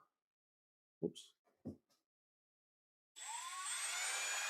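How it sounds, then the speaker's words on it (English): After a couple of brief clunks, a small power drill with a hinge pin chucked in it whirs up and spins steadily at a high pitch, close by. "And typically you can run the drill"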